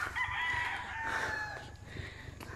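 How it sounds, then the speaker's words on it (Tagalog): A rooster crows loudly and close by while other chickens cluck and chatter in the background. "Maraming manok dito"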